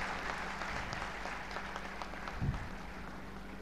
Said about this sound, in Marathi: माझ्या मताशी आपण सहमत असल्यास एकदा जोरदार टाळ्या